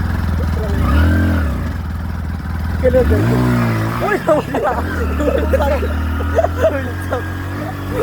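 A Hero Splendor motorcycle in first gear climbs a steep slope near a gravel crushing site, its engine droning and straining with rising revs while people talk over it.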